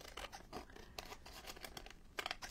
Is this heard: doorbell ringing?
no